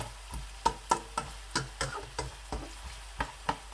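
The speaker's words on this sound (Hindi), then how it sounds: "हल्के फ्लेम पे प्याज जो है वो मैं पकाऊंगा।" Onions frying in a pan on a low flame, cooking toward light brown for an aloo matar gajar dish: a soft, steady sizzle broken by regular clicking scrapes of a spoon stirring, close and fairly quiet.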